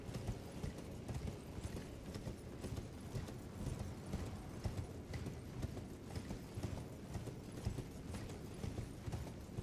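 A horse gallops in Elden Ring: Shadow of the Erdtree, with steady, fast hoofbeats that run on without a break and no voices over them.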